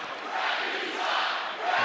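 Basketball arena crowd at an NCAA game between UNLV and Utah State reacting to a foul call, a loud, sustained roar of booing and shouting that swells and holds throughout.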